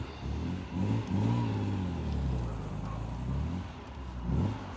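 A Ferrari Dino 246 GTS on the road, its engine droning and rising and falling as it accelerates and shifts. Heard from inside the car, steady and moderately loud with road noise underneath.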